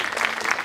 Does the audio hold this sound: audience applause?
yes